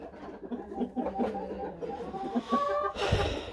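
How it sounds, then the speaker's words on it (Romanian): White Plymouth Rock hens clucking in a backyard flock, soft repeated clucks and murmurs close by with a brighter squawk near the end, no talking. "Familia de Plymouth alb."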